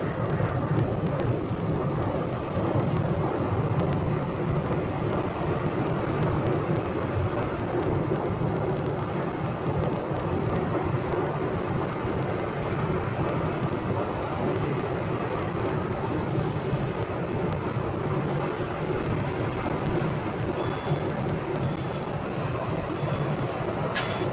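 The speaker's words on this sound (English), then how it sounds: "So Breeze Airways is taxiing for departure on the south side." Out on the south side of Phoenix airport, a Breeze Airways airliner taxis for departure, heard as a steady broadband jet roar that holds an even level for the whole stretch, with no one speaking.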